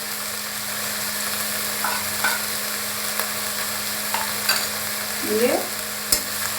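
Onion and mustard paste being stirred as it fries in a pan, a steady soft sizzle with scraping spoon strokes and a louder scrape near the end, no talk over it.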